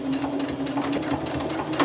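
A sewing machine back-stitches fabric for a hospital-grade protective mask, running with a fast, even chatter of needle strokes over a low motor hum, close and continuous.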